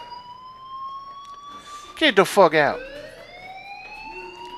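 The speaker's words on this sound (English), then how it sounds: "Do you hear that fire alarm?" A fire alarm in the video game Life is Strange: a rising, sweeping electronic tone runs steadily through the clip, briefly overlapped by a burst of loud spoken voice near the middle.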